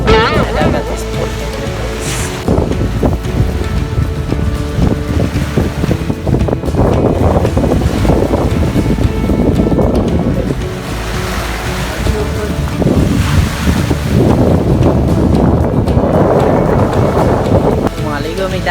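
Sea waves wash and break continuously on a beach while strong wind buffets the microphone, loud and close throughout with surges of surf.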